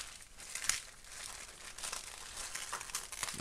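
Dried acrylic paint skin being peeled off a plastic sheet, a continuous close crinkling and crackling with small sharp snaps as the layer pulls away, with no talking.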